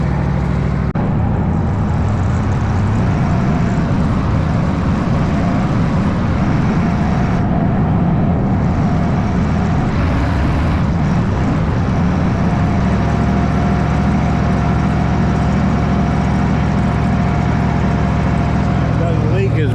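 A Bobcat 600 skid steer engine with a blown exhaust or head gasket runs steadily nearby, a continuous low, throbbing rumble that holds without pause for the whole stretch.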